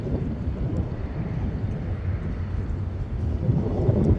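A distant IndiGo Airlines airliner on final approach to land at Dhaka airport, a steady low rumbling roar under wind noise that grows slightly louder toward the end, with no talking.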